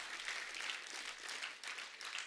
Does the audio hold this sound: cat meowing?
no